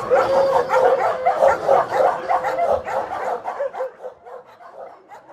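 Several dogs at a shelter bark and yip in a dense, overlapping chorus, loud and close at first, then thinning out into scattered barks and whimpers.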